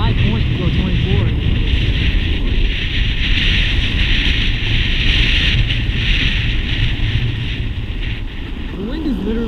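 Strong wind gusting across the microphone during a long electric skateboard cruise on a sidewalk, a loud continuous roar with rough low rumbling throughout.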